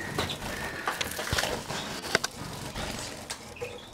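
A pied greenfinch mule cock bird, kept in an aviary with a linnet and a canary, gives brief soft chirps amid quiet background rustle and faint scattered bird calls.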